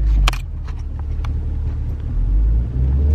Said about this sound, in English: We're sitting in traffic.